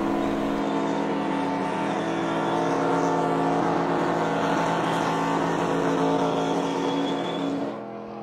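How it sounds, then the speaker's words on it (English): A race car doing a burnout after winning at Kansas Speedway, its engine holding a steady, loud roar for about eight seconds before cutting off at the end. "Here comes Cruz Ramirez doing her burnout."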